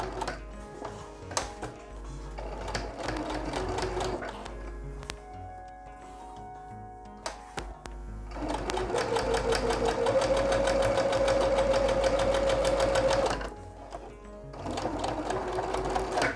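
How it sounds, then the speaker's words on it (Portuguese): Sewing machine stitching nylon with white top thread, a steady mechanical whirr with ticking needle strokes, running in bursts that grow louder and more continuous midway, close and alone. "vamos então fazer uma costura aqui neste material, que é o nylon"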